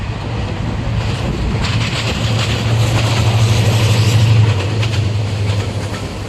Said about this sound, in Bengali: এটা হচ্ছে চট্টগ্রামের ভাটিয়ারের পেছনে ট্রেন আসতেছে।